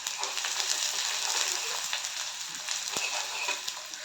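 Onion sautés in hot oil in a pan with a soft, continuous close sizzle and occasional stirring clicks, fairly quiet and with no talking.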